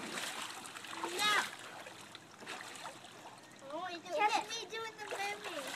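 Splashing water from a child swimming at a Fourth of July outing, with bursts of splatter rising and falling while a voice and other talk are heard over it.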